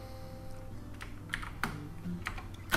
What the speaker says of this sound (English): I got a new keyboard today too, and that's what all the clicking is.